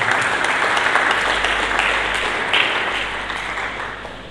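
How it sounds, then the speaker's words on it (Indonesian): A church congregation applauding together, a dense, steady wash of many hands clapping that holds for several seconds before tapering slightly. "Mari kita berikan tepuk tangan bagi Tuhan."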